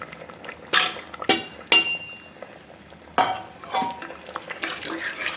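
Potatoes are dropped into a pot of Tamil mutton curry with onion and tomato, giving several sharp metallic clanks and scrapes of a ladle against the pot, separated by quieter gaps, near and without talk.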